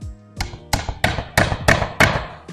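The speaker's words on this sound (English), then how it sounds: "and hammer down" Wooden plug hammered into the glued corner of a wooden canvas stretcher frame, six sharp, evenly spaced knocks ringing close and loud.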